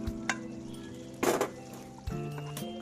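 Paneer pieces stirred into a thickening tomato and onion curry in a pan, with a few scraping, clinking spoon strokes against the metal over a soft sizzle, as background music plays.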